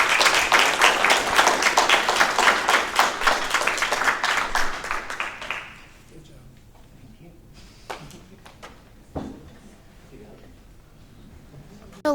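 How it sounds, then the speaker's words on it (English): Loud applause from a poetry reading audience celebrating a book of poems, dense clapping for about six seconds before it stops abruptly, followed by quiet room noise with a few scattered claps. "Like one more round of applause because he won't ask for it himself."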